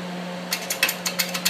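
A hand-cranked dimple die press forms a metal gusset, giving a series of short, sharp mechanical clicks and creaks, roughly five or six irregular ratcheting bursts over a faint steady hum, with no talk.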